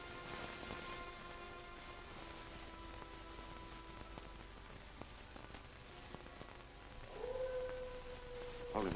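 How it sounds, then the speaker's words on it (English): Wolves in the Arctic: a lone rising howl emerges late in a faint, hissy, crackling old-film recording and carries on at moderate distance. "The howl of wolves usually denotes nearness of game."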